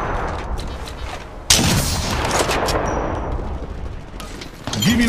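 Rapid gunfire bursts and booming shots fill a hectic Apex Legends Mobile firefight. The loud shooting runs almost without a break, with a sharp jump in intensity partway through and metallic game effects near the end.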